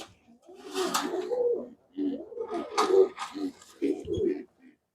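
A pigeon coos in several soft, throaty bursts with short pauses between them, close by and heard alone in a quiet setting.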